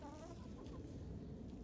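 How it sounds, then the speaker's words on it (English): Chickens cluck softly at a farm coop while feeding at lunchtime, a few brief, faint clucks over a low, steady outdoor background. "the chickens are busy having lunch"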